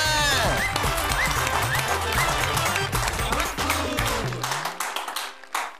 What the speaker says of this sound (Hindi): हम उनके लिए जोरदार तालियां बजाएं।